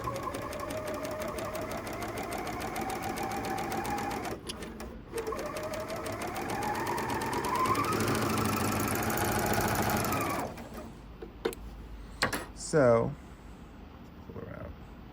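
A Bernina L460 sewing machine with a gathering foot runs in a fast, even mechanical whir that holds steady for about ten seconds, with a voice talking over it, before the motor stops and a few quiet handling clicks follow.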